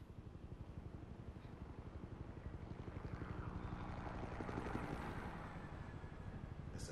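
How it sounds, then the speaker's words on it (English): A helicopter in Telltale Batman chops with a steady, fast rotor beat and swelling whine, fairly faint and continuous, rising slightly in the middle with no speech. "It's a hella chopper."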